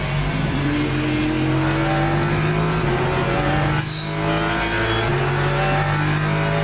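Race car engine in the Le Mans Ultimate racing game, a loud steady drone with shifting pitch as the car runs through a wet race, a brief dip and gear change midway, no talk.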